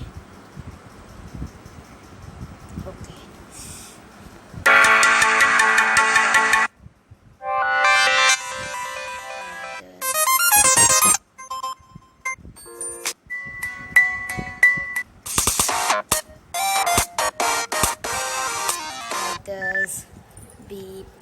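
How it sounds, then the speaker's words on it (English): Several ringtones on a Samsung M20 phone play one after another, each a bright, clear electronic melody. Some are sustained tones and others are chiming or beeping patterns, with brief gaps as the tone changes and soft background sound between them. "So here is your ringtone"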